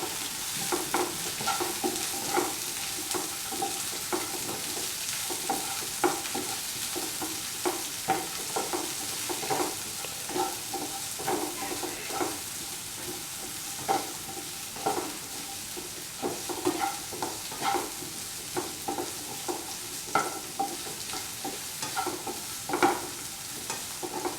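Capsicum frying with salt in a pan, a continuous sizzle broken by regular rhythmic scrapes of stirring, close and fairly even in level, with no one speaking.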